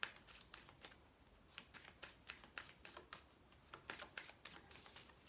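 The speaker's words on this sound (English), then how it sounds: "Two more shuffles." Rapid bursts of cards being riffled and shuffled, several quick shuffles in a row, close and crisp with short pauses between them.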